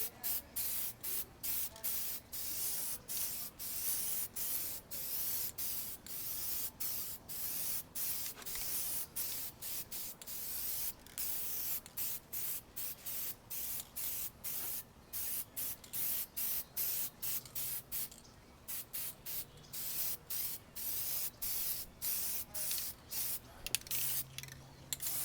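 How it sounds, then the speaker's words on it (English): Short hissing bursts from a spray can, rapid and nearly continuous, lay a light guide coat over leather car seats. The sound is close and steady throughout. "Just like a regular spray can, but you always want to do a really light guide coat."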